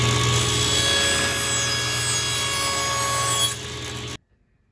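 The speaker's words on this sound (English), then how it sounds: "come back and cut this corner off so that when we make our second miter" Saw cutting the corner off a wooden piece for a miter joint on a floating shelf, a loud steady buzzing drone that drops off sharply at the end and leaves silence.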